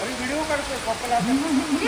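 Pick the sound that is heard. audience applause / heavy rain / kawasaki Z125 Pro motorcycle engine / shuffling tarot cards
heavy rain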